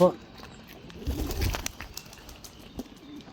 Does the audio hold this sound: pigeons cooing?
yes